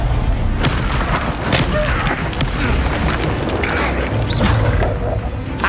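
Incendio fire spell blasts in the Hogwarts Legacy video game, a dense run of loud booming bursts and crashes layered over continuous rumbling game noise.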